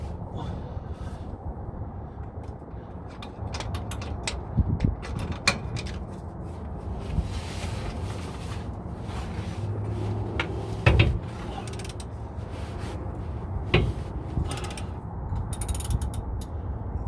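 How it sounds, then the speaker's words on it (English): Big wrench ratcheting on a rear shock bolt of a 1999 Ford F-250, steady mechanical clicking and grinding close by with a few sharper knocks, no talking. "And then get my big wrench."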